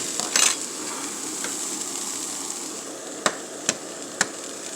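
Food sizzles steadily in a pan just taken off the heat, a soft continuous hiss punctuated by a few sharp taps of a utensil on the pan near the end.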